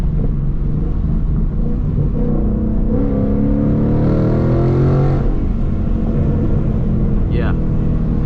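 A 2022 Ford Mustang with a 5.0 V8 and 10-speed gearbox revs during a downshift. The loud, steady engine drone swells into a rising, rowdy rev for a couple of seconds and then settles back to a rumble.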